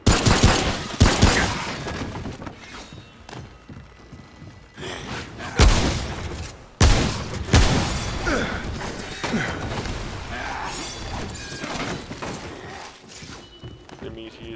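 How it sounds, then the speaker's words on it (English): Shotgun blasts in the video game Remnant: From the Ashes fire in quick succession, a few heavy booms standing out amid clattering action noise, with a player talking over the gameplay. "Be careful using all my shotgun ammo super quickly like that."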